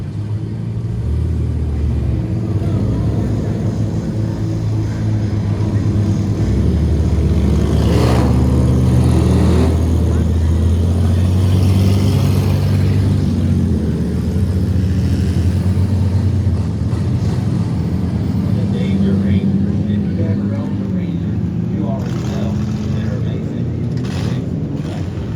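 Race car engines drone continuously on the Freedom Factory track, a loud, steady roar that swells and fades as the cars pass and accelerate over about twenty-five seconds.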